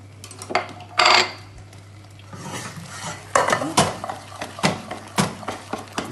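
A spoon works pieces of butter into a seafood risotto in a pan off the heat, giving loud scraping and clinking strokes against the pot in an uneven rhythm, close up with no talking.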